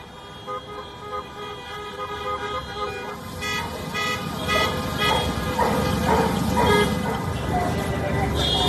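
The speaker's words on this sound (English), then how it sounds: "drivers staged an anti-lockdown protest, honking their car horns around the city hall" Car horns honk repeatedly from drivers at an anti-lockdown protest around city hall in Los Angeles, overlapping toots over traffic rumble, with a voice talking over the din.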